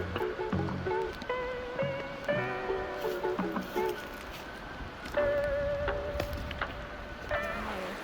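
Pyramid Creek flowing at a trail crossing on the Old Cascade Crest Loop, a continuous rushing stream wash under scattered chirps and clicks from the surroundings.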